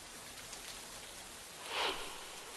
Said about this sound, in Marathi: संततधार पाऊस पडलेला आहे, त्यानंतरची ही स्थिती आपण बघू शकतोय